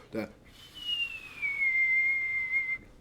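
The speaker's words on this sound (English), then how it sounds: "those dreamy keys with that like whistle, that down whistle" A thin whistle in an electronic music track glides smoothly downward and then holds a steady pitch before stopping, soft against a quiet background with dreamy keys.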